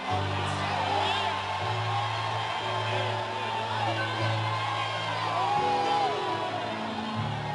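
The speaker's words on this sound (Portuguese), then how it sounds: "dê um grito de glória aí ao nome do Senhor" A church congregation shouting glory after a pastor's call, a sustained wash of overlapping yells and whoops from a crowd, steady and moderately loud over a continuous background.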